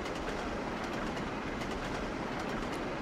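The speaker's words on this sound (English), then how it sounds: "I do like the steam engines. They work well, they sound good" LMS Coronation Scot steam train running in the Trainz game, a steady dense rumble of rolling wagons with faint rhythmic clatter, continuous and fairly close with no talk.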